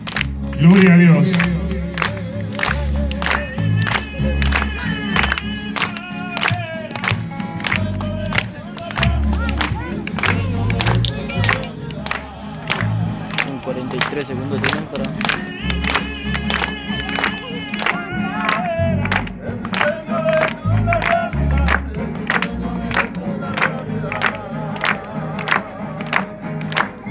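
A church congregation claps rhythmically in time with driving music, the sharp, regular handclaps accompanied by shouting and cheering voices over a heavy bass beat that carries on throughout.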